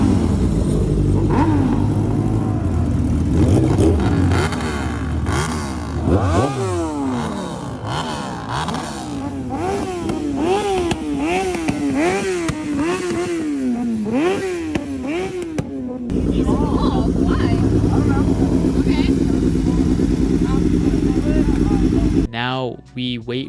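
Street-racing cars and motorcycles rev repeatedly in a parking lot, engines rising and falling in rapid throttle blips and sustained roars, loud and close, with clattering idle between pulls and voices mixed in.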